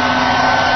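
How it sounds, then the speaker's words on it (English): A vacuum cleaner roars steadily and loudly right after switching on, a dense, continuous whine with no pauses. "This is a vacuum cleaner, which has an extremely, extremely high current draw when it is first turned on."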